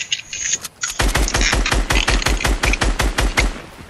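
Rapid automatic gunfire from the video game Fortnite: a steady stream of about twenty close, loud shots in fast even rhythm, following a short quieter stretch of game sound.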